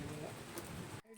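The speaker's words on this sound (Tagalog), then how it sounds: "Lalo pang lumakas ang ulan," Rain coming down harder outdoors near a chicken range area, a dense steady patter that cuts off abruptly near the end.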